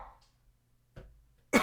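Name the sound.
coughing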